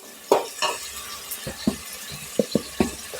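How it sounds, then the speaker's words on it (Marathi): Mixed vegetables, starting with eggplant, roast in a pan for Maharashtrian Bhogi rassa bhaji. A spatula makes repeated close scraping stirs over a soft sizzle, with no speech. "त्यामध्ये सगळ्या भाज्या टाकून भाजून घ्यायचे"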